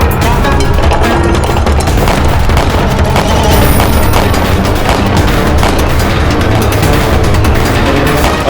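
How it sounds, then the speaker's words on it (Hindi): Cannon fire in a historical battle scene between Akbar's army and Maharana Pratap's forces, a dense, loud barrage of booming blasts and crackling gunfire filling the whole stretch. "हम खुद चलाएंगे तोप अभी।"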